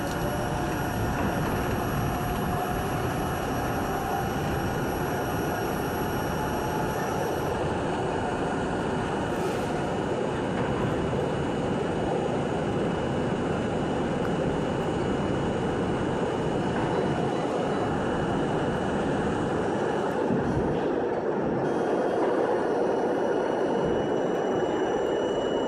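A 1964 Budd Co. R32 New York City subway car on a C train, running with a steady loud broadband rumble and rail roar throughout, with brief high tones and some rattling near the end.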